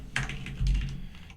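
Keys clack on a computer keyboard during a C and Vulkan programming session, a short close burst of several quick strokes with a heavier press midway and no voices.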